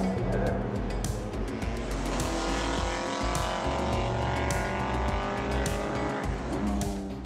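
Classic race cars at Le Mans Classic, including Jaguar C-Type and D-Type, scream past one after another, their loud engines rising and falling in a dense, continuous roar with occasional tyre squeal.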